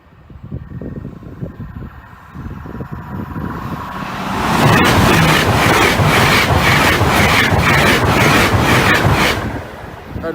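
Train passing over a rail level crossing: a low rumble builds, then a loud close roar with rhythmic wheel clatter over the crossing for several seconds before easing off.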